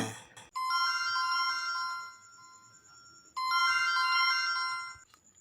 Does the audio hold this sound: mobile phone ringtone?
yes